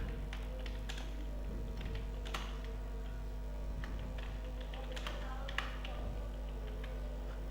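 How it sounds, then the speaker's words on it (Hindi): Someone types text on a computer keyboard, with scattered light key clicks in an uneven rhythm over a steady low electrical hum. "डायरेक्ट हम कोई भी टेक्स्ट लेंगे, यहाँ पर क्लिक करेंगे और अपना टेक्स्ट टाइप कर देंगे।"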